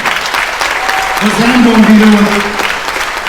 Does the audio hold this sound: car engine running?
no